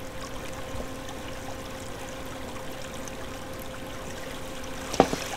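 Water in the block-building game Minetest makes a steady, even rushing and trickling sound as it is poured. There is a single sharp click near the end and no voices.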